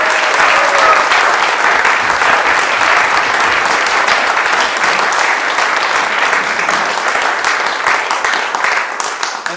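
A concert audience at an arts centre gives sustained, dense applause after a live folk music performance, loud and close, holding steady before thinning slightly at the end.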